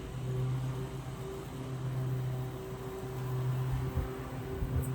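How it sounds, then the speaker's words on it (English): A lawn mower runs steadily a little way off while the yard is mowed, a continuous low droning engine hum that stays at a fairly even level throughout, with no speech. "Excuse the noise. Kevin has decided now is a great time to mow the yard."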